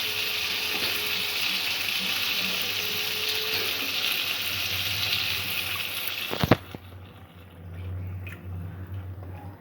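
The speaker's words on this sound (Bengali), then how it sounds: "এবারে জল দিয়ে দেব।" Water is poured into a frying pan of potatoes and cauliflower cooking with spices, giving a steady hissing sizzle followed by a sharp splash and a quieter, bubbling simmer afterward.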